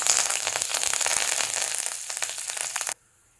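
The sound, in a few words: urad dal and chana dal sizzling in hot oil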